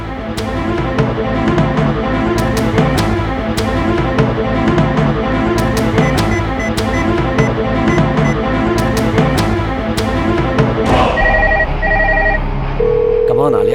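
A telephone rings loudly and repeatedly in a steady pulsing pattern, with dense background music running underneath, before the ringing stops and a sustained tone takes over.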